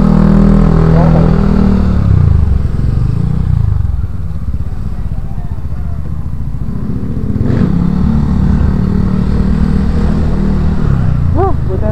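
A motorcycle rides along a road near a bridge under construction in Bulacan, its engine a steady close drone with wind rush for the whole stretch, and a few brief whistling tones near the end.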